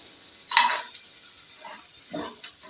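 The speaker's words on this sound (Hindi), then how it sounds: "तो अब हम इसमें तकरीबन 1 टेबल स्पून जो है वो बटर डालेंगे और इसके साथ ही इसमें जो है गुड़ शामिल कर देंगे" Butter and jaggery cook in a pan, a faint close sizzle with a brief bright clink of utensil near the start and a few soft stirring scrapes later.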